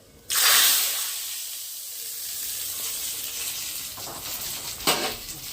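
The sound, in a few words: tempering (tadka) sizzling in hot oil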